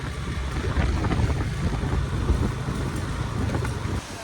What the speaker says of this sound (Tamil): இப்போ காற்று வந்து அதிகமாக அடிக்குது